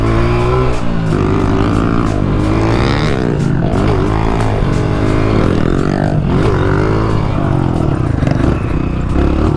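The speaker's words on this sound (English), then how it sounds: "Couldn't leave town without doing a little pit bike section first." A 125cc pit bike engine on a dirt track buzzes and revs loudly and continuously, its pitch climbing and falling with throttle changes close to the microphone.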